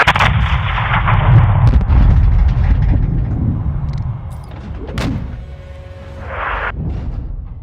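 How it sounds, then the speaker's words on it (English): In a video game, a missile launch makes a heavy, rumbling roar, then a sharp, loud blast explodes partway through, followed by a lingering low rumble. "Missile coming out"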